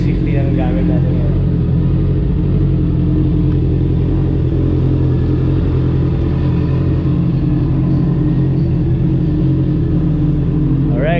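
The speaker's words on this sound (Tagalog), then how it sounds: "pinapainit ko na yung makina" A Honda CB650R motorcycle with a full-system exhaust idles while warming up, giving a continuous loud, deep rumble that stays even throughout with no revving.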